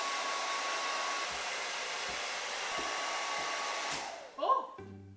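A hair dryer plugged into an extension cord blows with a steady, airy roar, then cuts out abruptly as the breaker trips, followed by a few faint clicks and knocks.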